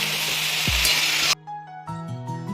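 Brinjal and potato pieces fry in a pan for a Baingan Aloo sabji, giving a steady, close sizzle for just over a second before it cuts to soft music.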